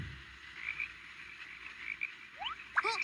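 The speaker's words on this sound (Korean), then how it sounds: "어? 개구리네?" Faint, sparse frog croaks sound over a steady wash of rain near a lotus pond, short chirpy calls spaced apart, with a brief rising tone at the end.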